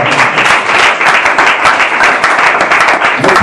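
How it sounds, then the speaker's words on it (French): A church congregation breaks into steady, sustained applause, a dense wash of many hands clapping at once, loud and close, with no voices standing out. "Nous pouvons l'acclamer"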